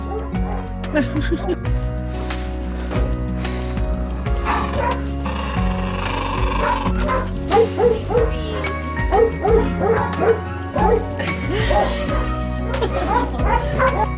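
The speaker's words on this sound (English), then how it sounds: "God, dogs are barking now." Many dogs bark and yip at a dog shelter in Romania, with puppies whimpering among them; the barking is continuous and near, layered over constant background clamour with occasional louder bursts.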